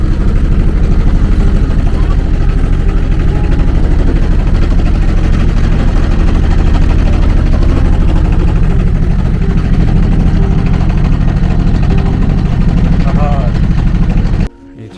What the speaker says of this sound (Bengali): নৌকার সাউন্ডে অত বেশি শোনা যাইতেছে না।